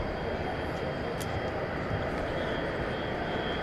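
Turkish Airlines jet taxiing and turning at DFW Airport, heard as a steady, continuous roar of turbine engines at a distance without a break, with a faint high whine riding above the low rumble.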